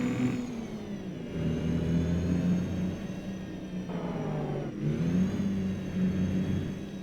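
A Kenworth K100 cabover truck engine idles and runs steadily in American Truck Simulator, a loud sustained mid-pitched drone that dips briefly and then rises again.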